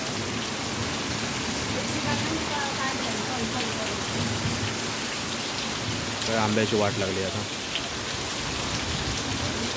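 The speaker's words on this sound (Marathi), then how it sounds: "खूप जड पाऊस पडतो" Heavy unseasonal rain in the Konkan pours down in a dense, constant roar, with a person speaking briefly over it partway through.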